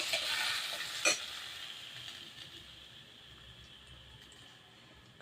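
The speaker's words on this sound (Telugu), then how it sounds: "పెనంలో కొద్దిగా ఆయిల్ తీసుకొని ముందుగా కట్ చేసి పెట్టుకున్న టమాటోస్ని వేసుకుందాం." Cut tomatoes frying in a little oil in a pan, a steady soft sizzle with a brief stirring scrape near the start, fading gently toward the end with no talk.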